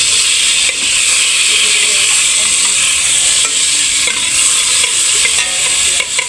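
Garlic sautés in melted margarine in a pan, making a loud, continuous close-up sizzle and hiss with occasional stirring scrapes.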